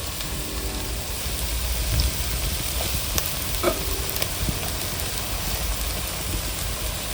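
Cooked rice being stirred into a tomato and egg mixture in a hot pan, a steady soft sizzle with scraping and stirring textures throughout, no talking over it.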